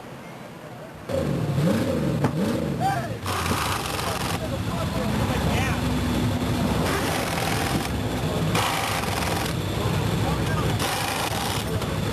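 A stock race car's engine fires back up after a spin at a 1999 Stockton oval race, revving and rising in pitch amid the steady roar of other cars passing, while a commentator talks over it.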